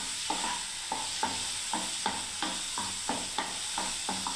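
Okra curry with ground almond paste stirred and sautéed in a pan, a steady sizzle under regular scraping strokes of a spoon against the pan, about two per second, close and without speech.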